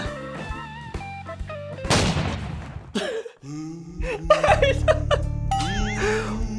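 A gunshot rings out in a death roulette video game, a sharp broadband burst near the middle of a busy stretch of game music, chimes and effects, with voices talking around it.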